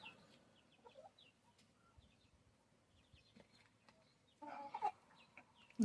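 Hens cluck softly in short scattered bursts, with a louder flurry of clucking near the end, outdoors with no talking.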